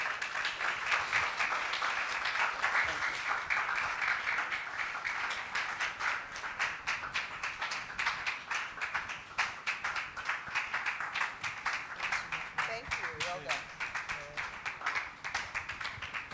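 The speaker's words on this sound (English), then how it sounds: "Don't stop clapping." Audience at an international boy-child summit claps steadily for about sixteen seconds, a dense, moderately loud wash of hands with scattered individual claps and no voices over it.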